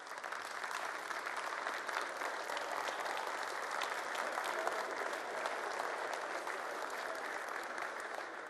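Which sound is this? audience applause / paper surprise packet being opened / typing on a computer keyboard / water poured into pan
audience applause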